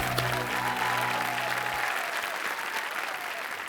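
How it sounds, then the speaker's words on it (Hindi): A TV game-show studio audience breaks into sustained applause, loud and steady, while a musical sting plays underneath at first and then fades out. "एक बार तालियों के साथ इनका अभिनंदन।"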